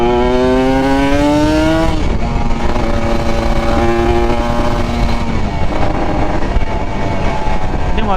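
A motorcycle engine revs loudly and continuously, its pitch rising, dropping after about two seconds and then rising and falling again in steady waves, with no talk.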